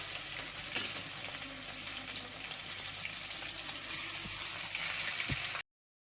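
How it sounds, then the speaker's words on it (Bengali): Tilapia pieces frying in hot oil in a frying pan, a steady close sizzle and crackle throughout, with a few faint knocks near the end before it cuts off. "একটি ফ্রাই প্যানে তেল গরম করে মাছগুলো ভেজে নিতে হবে"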